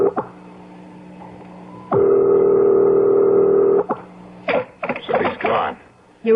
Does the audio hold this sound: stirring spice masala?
no